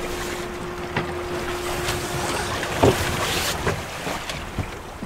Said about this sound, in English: So as you can see now, these are the gusts.